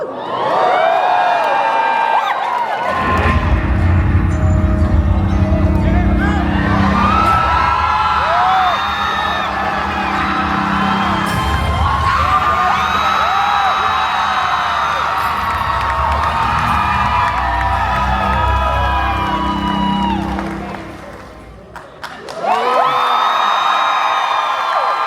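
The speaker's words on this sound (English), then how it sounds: "Something tells me this crowd is familiar with Jack and Oddfellow" A convention panel audience for Halloween Horror Nights at Universal Orlando erupts in loud, sustained cheering and high whoops that hold for about twenty seconds, dip briefly, then surge again near the end.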